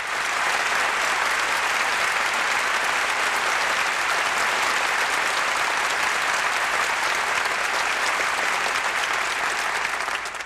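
An audience fills a hall with sustained applause welcoming Mr. Deedat, a dense, steady wall of clapping that holds at even loudness for the whole stretch before easing slightly at the very end.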